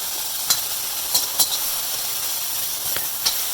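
Julienned carrots and broccoli hitting a hot wok with sauce in a no-oil garlic ginger stir fry, a steady loud hiss and sizzle punctuated by several sharp crackles and pops.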